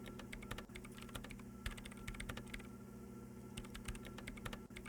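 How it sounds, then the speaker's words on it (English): Rapid clattering keystrokes on a machine keyboard in Disco Elysium, quiet and close, a busy irregular patter of taps with occasional heavier key hits and no talking. "her hands typing hundreds of commands into the machine"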